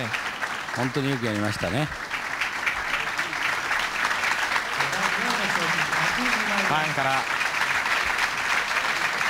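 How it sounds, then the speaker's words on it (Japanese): A bowling championship crowd in Japan keeps up continuous warm applause for a fourth-place pro, while commentators talk over it. "温かい拍手が西条プロに送られます。"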